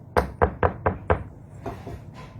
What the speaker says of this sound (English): He knocked at that house.